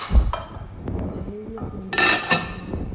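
Rice in a metal cooking pot, stirred for aloo matar pulao before the lid goes on, with scraping and clinking of a utensil against the pot and a brighter metallic clank near the end.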